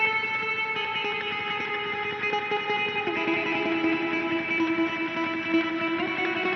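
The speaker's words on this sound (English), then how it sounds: "this is another reverb built into the HX Stomp. It's just really saturated, kind of long trail." A guitar rings through an HX Stomp pedalboard set to a heavily saturated, long-trail reverb, sustained chords blooming into a dense, continuous wash without any voice.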